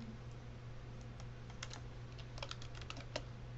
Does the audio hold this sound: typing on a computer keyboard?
yes